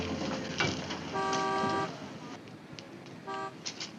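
A bus pulls up and stops, its horn tooting in short bursts over low engine rumble and street noise.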